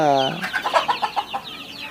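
Month-old chicks of the pure Siruvidai native chicken breed, about a hundred crowded into a small pen on a farm, give a high sliding peep followed by a quick run of soft, rhythmic clucks, close and fairly loud.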